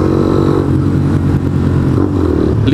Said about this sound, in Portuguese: Linda moto, hein? Ninjinha com escapinho megafônico.